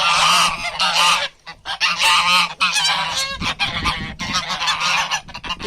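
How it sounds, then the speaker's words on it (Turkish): A flock of geese honks loudly and almost continuously, overlapping calls close by with only brief pauses. "güzel kazlar"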